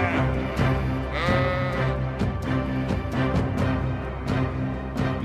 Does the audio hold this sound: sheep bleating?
yes